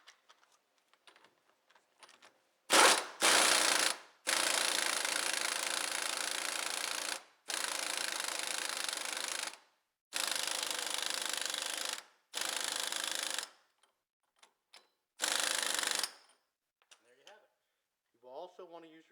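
Socket tightening a front wheel bearing nut on a Pontiac Sunfire, heard as several loud, close bursts of a few seconds each separated by short pauses, with a faint voice near the end.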